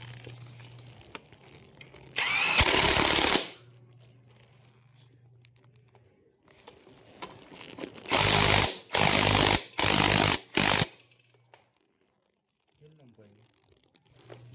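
An impact wrench working on a Yamaha Aerox 155 scooter engine during a refresh, one long loud burst followed by a quick series of three or four short rattling bursts, close by, with casual talk between.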